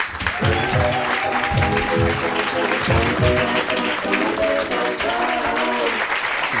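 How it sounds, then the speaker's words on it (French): A French audience applauds to welcome actor and comedian Thierry Samitier, loud, dense clapping with a voice-like tonal sound rising and falling through it in repeated bursts. "Je vous demande d'applaudir Monsieur Thierry Samitier."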